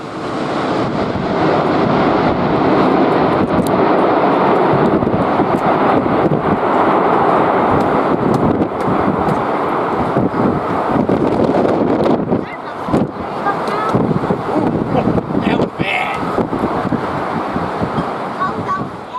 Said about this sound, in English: This cargo Boeing 747 making a firm landing.